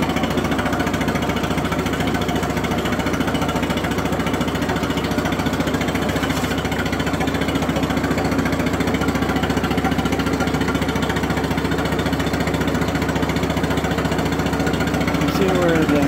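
A 1951 Ferguson TE 20 tractor engine idling with a steady, loud, continuous rumble and a rapid knocking rhythm, close up throughout, with people talking over it.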